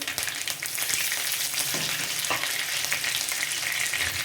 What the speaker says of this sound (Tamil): தேவையான அளவு கடுகு கடுகு நல்லா பொரியுது